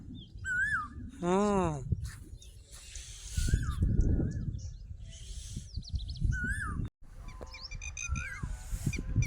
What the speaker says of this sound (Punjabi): ਤੜਕੇ ਤੜਕੇ ਪੰਛੀਆਂ ਦੀਆਂ ਆਵਾਜ਼ਾਂ ਆ ਦੇ ਕੋਇਲਾ ਤੇ ਉਹ ਉਧਰ ਟਡੀਰੀ ਬੋਲੀ ਜਾਂਦੀ ਹੈ